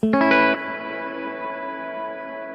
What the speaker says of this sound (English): this is kind of a bigger, much more dramatic reverb